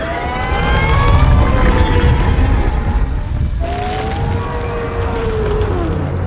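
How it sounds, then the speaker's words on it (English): The Krayt Dragon roar from The Mandalorian sounds as a long, loud synthetic wail with sliding tones that fall and rise, breaking off midway and resuming over a dense rumbling bed. "Now notice the sound design of the Krayt Dragon roar."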